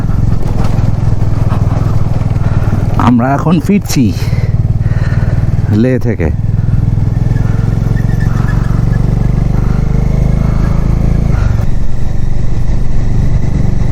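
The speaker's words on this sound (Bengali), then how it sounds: "প্রচুর বাইকার যাচ্ছে আজকে" Motorcycles rumble past on a high mountain road near the Baralacha La pass in Ladakh, engines droning steadily up close while someone talks over them.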